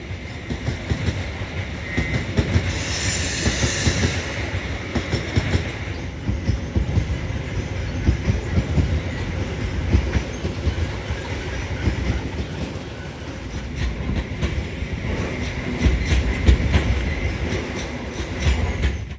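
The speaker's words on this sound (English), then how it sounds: "Another coal train has just arrived to Indonesian middle of nowhere" A heavy coal freight train in Sumatra, Indonesia rumbles past nearby, wagons rolling steadily with a continuous clatter of wheels on rails and no talking.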